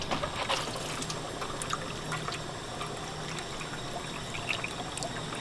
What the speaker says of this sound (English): I'm gonna just fill it up the way it is with water